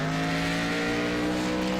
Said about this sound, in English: Thing sounds like it's only running on about 7 cylinders.